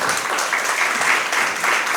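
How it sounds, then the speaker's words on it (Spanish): Congregation clapping hands during a church service, a loud, continuous wall of applause with no pause. "dele palmas al Señor"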